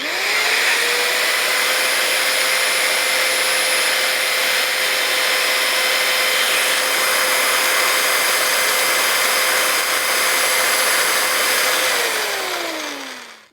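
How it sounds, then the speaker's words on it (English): An electric pipe threader runs steadily on galvanized gas pipe, a loud continuous motor whine with grinding cutting noise that holds for over ten seconds, then drops in pitch as it winds down at the end; no talking. "What we just did is threaded the galvanized pipe, one with a manual threader and one with an electric threader."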